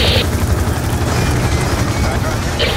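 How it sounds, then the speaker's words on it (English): Loud, steady rotor thump of a helicopter close overhead in Black Ops 2, droning throughout with brief high-pitched bursts near the start and end. "Helicopter above the parking structure!"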